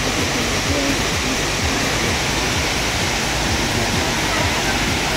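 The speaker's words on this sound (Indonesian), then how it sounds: "di depan sana mungkin tujuan kita air terjun Dolo" Steady, loud rushing of Dolo waterfall on the slopes of Mount Wilis, Kediri, a dense continuous roar with no breaks.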